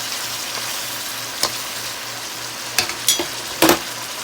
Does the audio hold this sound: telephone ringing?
no